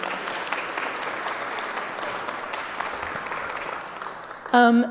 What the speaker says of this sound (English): So please give them a round of applause too.